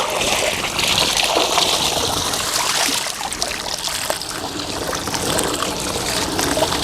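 Water pours and trickles steadily over polyfill filter media, a continuous close splashing wash with no talking.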